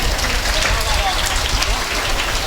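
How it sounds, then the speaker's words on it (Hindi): An audience claps steadily at an honouring ceremony, a dense, continuous patter of many hands filling the space with no clear breaks. "तालियां बजाएंगे।"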